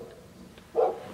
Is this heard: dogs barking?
yes